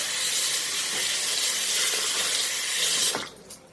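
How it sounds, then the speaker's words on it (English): Steady rush of running tap water as a makeup brush is rinsed beneath it, close and loud for about three seconds before the flow is cut off. "I'm pretty much just going to rinse this."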